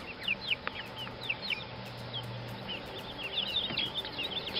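Backyard chickens in a chicken run, full-grown hens and roosters, clucking and chirping in scattered, overlapping calls at moderate distance, with soft outdoor background noise and no talk.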